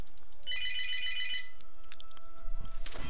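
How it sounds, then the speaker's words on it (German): A telephone rings inside the Diablo 3 video game, a bright electronic ringtone burst lasting about a second near the start, followed by quieter game sounds and a louder rumble at the end. "Toll, Telefon."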